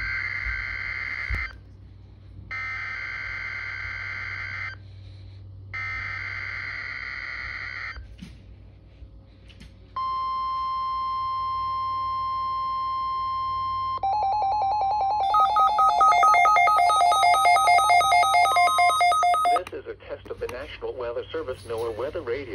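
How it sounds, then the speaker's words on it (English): A NOAA Weather Radio broadcast for a required weekly Emergency Alert System test plays bursts of shrill data tones, then a long steady warning alarm tone, followed by rapid beeping tones, with a synthetic voice speaking between them. "NOAA Weather Radio All Hazards Warning Alarm System in cooperation with the Emergency Alert System"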